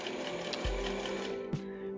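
A sewing machine stitches shorts made from old bed sheets, a close, steady whirring run with a brief mechanical clunk partway through, alone without talk.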